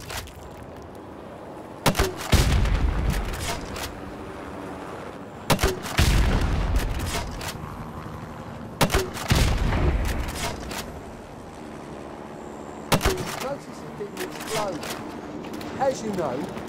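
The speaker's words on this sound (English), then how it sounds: "Equip the grenade launcher. Fire at the wall with the number one on it." Grenade launcher fired at a wall in the Call of Duty Modern Warfare video game: four loud, evenly spaced blasts, each a sharp launch and a booming impact with a rolling tail, while people talk between shots.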